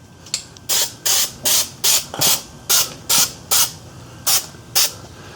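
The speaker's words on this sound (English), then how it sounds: "we're going to put a little bit of fluid film on there." Fluid Film rust inhibitor sprays onto the rear wheel hub of a Ford Escape during a brake job, about a dozen short, crisp hissing pumps in an even rhythm, loud and close.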